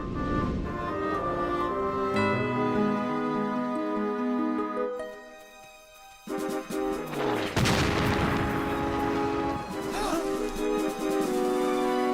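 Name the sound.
cannon fire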